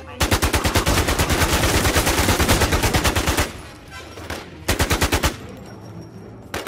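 Rapid automatic gunfire from the Warz PVP video game hammers out in a long loud burst of evenly spaced shots, stops, then returns with a shorter volley after a brief pause.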